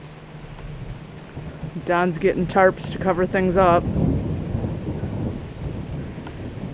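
Thunder from an approaching thunderstorm rumbles low and steady beneath a short stretch of nearby speech, with a faint wash of rain and wind throughout.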